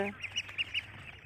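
Ducklings on a Champa duck farm give a quick run of about five faint, high peeping quacks, evenly spaced and close together within a second.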